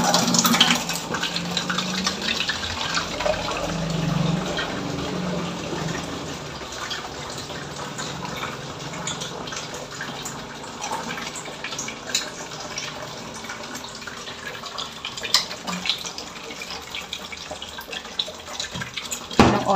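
Tap water runs into storage containers at home, a continuous splashing gush with scattered clinks and knocks of the vessels, fairly close and without talk.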